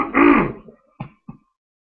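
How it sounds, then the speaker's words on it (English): A person with a lingering cold coughs, first one long rough cough and then two short, sharp coughs, close up with brief silences between them. "Still coughing stuff up in that nasty cold I had last week."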